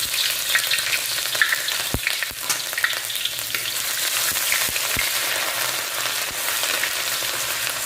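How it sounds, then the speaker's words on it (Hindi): Ginger garlic paste fries in hot oil in a karahi, a steady, close, dense sizzle with occasional stirring clicks throughout. "ऑयल हमारा अभी गर्म हो चुका है। तो सबसे पहले हम इसमें जो जिंजर और गार्लिक का जो पेस्ट है वो ऐड करेंगे।"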